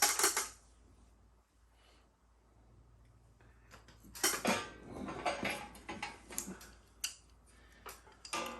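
Metal nuts and bolts clinking and rattling in scattered bursts while a Harbor Freight welding cart is assembled, close and fairly quiet, with short pauses between handfuls of hardware.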